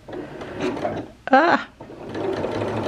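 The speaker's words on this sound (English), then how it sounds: "I'm just going to do a few forward stitches and then just back stitch" A sewing machine stitches knit fabric in a short burst of forward stitching followed by backstitching, close and clear, with someone talking over it before and after.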